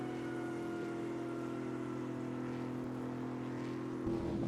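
Steady engine drone of the safety car in F1 2002, heard from the onboard view at the Brazilian Grand Prix, a low sustained hum holding an even pitch with a slight rise near the end, alone.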